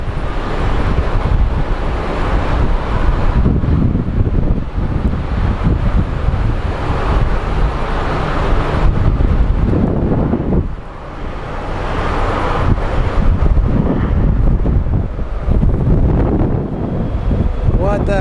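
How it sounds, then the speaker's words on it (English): Strong wind buffets the microphone outdoors at Phoenix Sky Harbor Airport, a loud continuous roaring rumble with a brief lull midway, with distant traffic or engine noise underneath. "Why is this wind so ridiculous today?"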